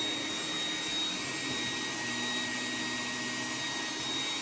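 An iRobot Roomba 980 robot vacuum runs in boost mode, a loud, steady whirring roar with a broad hiss that holds constant throughout, with no one talking.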